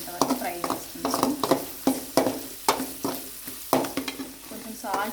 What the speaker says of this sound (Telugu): ఇలా కొంచెం బ్రౌన్ కలర్ వచ్చేంత వరకు ఫ్రై చేసుకున్నాము.